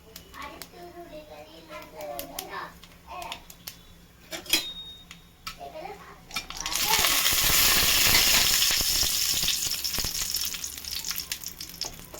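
Nigella seeds and dried chillies dropped into hot oil in a frying pan, a bright, loud sizzle bursting in partway and holding steady, preceded by soft kitchen clicks, handling noise and a voice.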